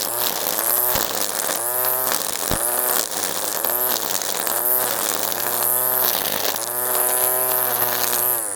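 Webb ECO 20V cordless battery garden machine running close by, a loud buzzing motor whine that pulses and surges in steady waves with no talking.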